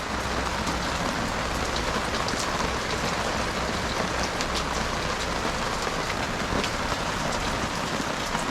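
Warm rain falls steadily near the Florida–Georgia border, a dense, even hiss with scattered drop patter on surfaces, continuous throughout and with no voices.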